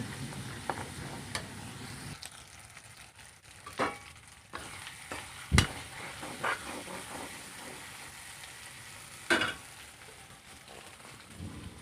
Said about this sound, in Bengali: মাছের মাথাটা দিয়ে দিলাম দিয়ে আবারও নেড়ে চেড়ে নিচ্ছি